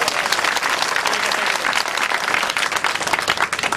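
Gathered villagers at a chaupal meeting with a minister, clapping in welcome: a dense, steady burst of many hands applauding together, close and loud, sustained across the whole stretch with slight swells.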